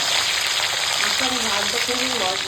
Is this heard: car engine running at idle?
no